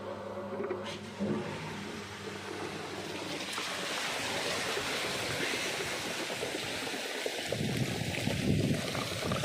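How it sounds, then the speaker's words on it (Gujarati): A farm water pump motor runs steadily beside a well while water rushes and splashes through the irrigation line, a continuous churning flow that grows fuller and louder toward the end. "થઈ ગઈ મોટર ચાલુ આપણી।"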